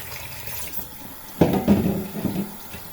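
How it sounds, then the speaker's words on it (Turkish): Cold water from a kitchen tap gushes in suddenly about halfway through, splashing loudly and continuing to the end after a quiet start. "Şöyle soğuk suyu da açalım da."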